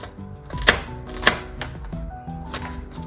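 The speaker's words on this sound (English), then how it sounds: "I'm dicing up the onion very small." Knife chopping onion into small dice on a board, a few sharp distinct chops standing out over steady background music, with no talking.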